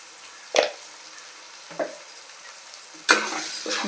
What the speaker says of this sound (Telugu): కొద్దిగా వేపాలి. బాగా వేగిందండి.